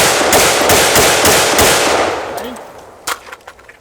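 Rapid AR-15 rifle fire on an outdoor training range, a fast string of sharp loud shots through the first two seconds, then fading, with a few distant shots and brief voices near the end.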